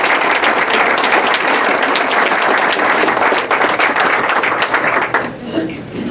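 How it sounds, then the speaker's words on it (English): A museum legend ceremony audience breaks into dense, sustained applause that stays loud and close throughout, with some voices mixed in, then thins slightly near the end. "Let's give him a round of applause right now."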